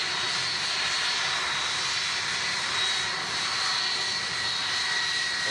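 An Atlas Air Boeing 747 departs, its jet engines giving a loud, steady, broadband roar that holds constant and close throughout, with no voices over it.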